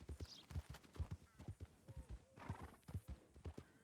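Rhythmic clip-clop of a video game horse's hooves trotting steadily on hard ground, close and clear, with a brief whinny partway through.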